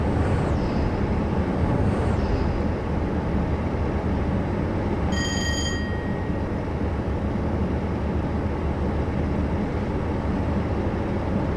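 A Pendolino train runs at full throttle on the Woodhead line in Train Simulator, a steady, loud rumbling roar with a few brief whistle-like tones partway through, and no talk.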